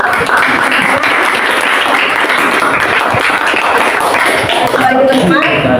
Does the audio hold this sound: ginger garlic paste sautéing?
no